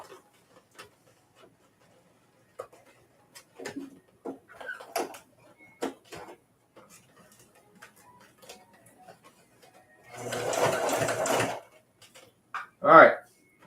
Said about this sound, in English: I love this sewing machine